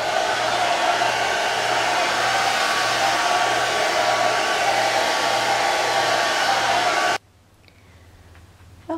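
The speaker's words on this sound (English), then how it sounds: "I'm going to take a hairdryer here and speed the process up at this drying a little bit" A hair dryer blows steadily to dry paint on a painting of poppies, a loud constant whooshing drone for about seven seconds that then cuts off abruptly into near silence.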